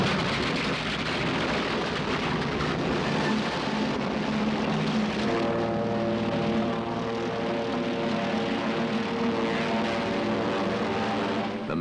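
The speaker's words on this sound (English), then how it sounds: "The man in the cockpit is Murphy." Propeller aircraft engine drones steadily and loudly throughout, a broad roar that shifts partway into a harmonic-rich tone, as though heard from inside or near the cockpit, with no talking.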